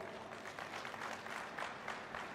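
Crowd applause at a women's welfare rally addressed by the Madhya Pradesh chief minister in Sidhi, a steady dense patter of many hands clapping at a moderate distance, continuous throughout.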